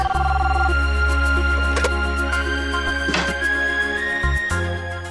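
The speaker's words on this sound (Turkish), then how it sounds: "Bu telefonda benim düşmanım oldu. Üçüncü defa çalıyor." A telephone rings in a Turkish-dubbed Indian TV drama, its bell-like tones chiming at intervals over a steady low hum and soft background music, with no speech.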